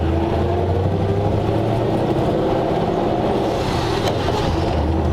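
A rare 1939 Ford convertible, freshly revived from a barn, drives along with a loud, steady engine rumble and road noise heard from inside the car as the transmission shifts, with a subtle change in engine tone partway through.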